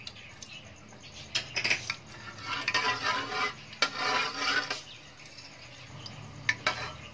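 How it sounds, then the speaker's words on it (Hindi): Cardamom seeds dropped into hot ghee in a pan give a clattering patter and sizzle, with bursts of crackling frying and utensil clinks through the middle, fading back to a quieter simmer. "घी गर्म हो गया तो हम इसमें जो इलायची के दाने थे ये ऐड करेंगे।"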